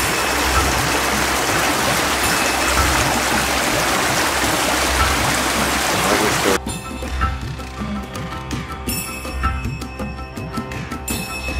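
A stone-lined stream rushes steadily with a loud, continuous wash of water, then the sound abruptly changes to a quieter, thinner flow with faint trickles and scattered small splashes.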